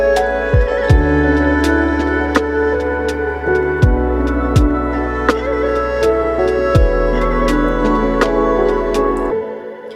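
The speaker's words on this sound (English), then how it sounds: "So the first melody will be this erhu" Erhu melody from a Native Instruments East Asia library, processed with saturation, RC20, reverb and compression, plays a sliding lo-fi line over a deep bass and steady plucked hits, loud and alone.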